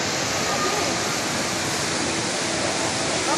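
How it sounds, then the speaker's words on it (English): The Rain Vortex indoor waterfall at Jewel Changi, Singapore, roars as a dense, continuous wash of falling water, loud and close, with no voices heard. "A beautiful Vortex waterfall is right there in all its,"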